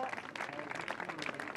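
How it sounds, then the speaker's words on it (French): Spectators at a women's compound bow bronze archery match applaud in a short, moderately faint burst of clapping, with a commentator's voice running over it. "Les applaudissements,"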